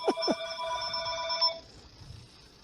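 A telephone rings during a woodturning demo on carving feet for turned projects: a clear electronic ring tone plays for about a second and a half, fairly loud and alone, then cuts off to faint room noise.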